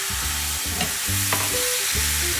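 A steak pan deglazed with red wine sizzles steadily while a utensil scrapes the bottom in repeated strokes, close and continuous with no talk.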